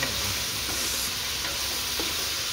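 Creamy chicken simmers in a pan, giving a steady, dense bubbling sizzle close up, continuous and unbroken with no voices.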